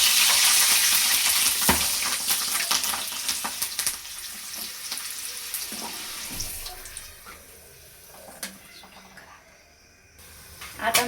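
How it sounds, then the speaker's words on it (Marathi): Bhaji fritters deep-frying in hot oil with chillies added, a loud steady sizzle up close that thins and quietens toward the end, with occasional utensil knocks. "आता मी परत थोडेसे भजे टाकलेले आहेत, थोडेसे लालसर बनवत आहे।"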